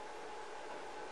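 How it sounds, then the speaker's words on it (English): Water pump circulating in a Series 9 Minigen hydrogen generator with autofill, a steady broadband hiss and hum heard alone for just over a second, fairly faint and continuous. "you can hear the pump circulating right now,"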